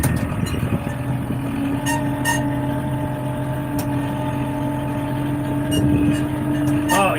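A tractor engine holds a steady low hum with idling harmonics while descending a steep hill, using engine braking, fairly close and continuous, with faint ticks and a brief rise near the end.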